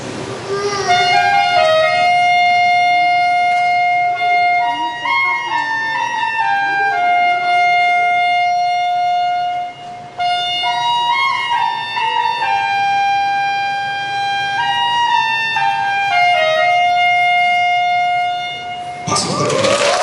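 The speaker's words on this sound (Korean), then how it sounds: "우리 소프라노 색소폰의 소리를 한번 들어보시겠습니다" A soprano saxophone plays a sustained, singing melody at a student concert, loud and close, with long held notes and smooth steps between pitches throughout.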